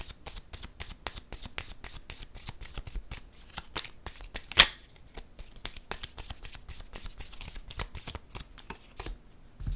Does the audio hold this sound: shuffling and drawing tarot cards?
yes